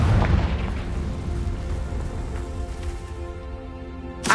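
A single close, heavy boom from the Confringo blasting spell in Hogwarts Legacy, followed by a rumbling, debris-like decay and another short burst at the end.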